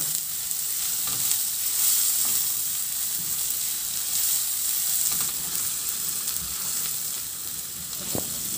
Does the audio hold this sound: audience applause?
no